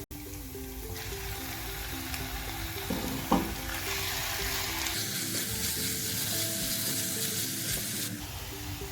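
Chicken fries with garlic paste in a pan, giving a loud, continuous sizzle that holds steady throughout. A single sharp clink from a utensil breaks in partway, and the hiss grows denser toward the end with no voices.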